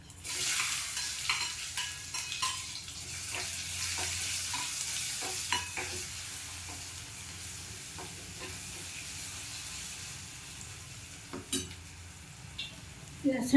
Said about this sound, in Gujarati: ડુંગળીને છાંતળવાની, મીઠું સ્વાદ પ્રમાણે નાખવાનું